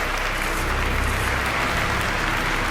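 Steady, dense applause from a video game crowd as the player walks onto a stage before a darkened audience, continuous and loud from start to finish.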